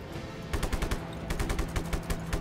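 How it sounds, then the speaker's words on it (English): Rapid automatic gunfire aimed at the player in Just Cause 3, a steady stream of sharp shots starting after a short lull and rattling on loudly without pause. "Somebody's like shooting up at me?"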